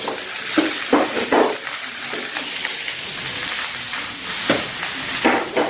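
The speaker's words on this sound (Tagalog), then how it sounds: "I-medyo papulahin natin yung golden brown natin yung onion." Onion frying to golden brown in a pan for fried rice made from leftover rice, sizzling steadily and loudly close by, with repeated scraping stirs breaking through the hiss.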